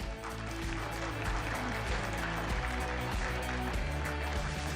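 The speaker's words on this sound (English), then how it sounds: "may I have your big round of applause" A round of applause from the audience at an AFF U23 2025 championship media announcement, clapping under loud background music with a strong steady beat, filling the whole stretch without pause.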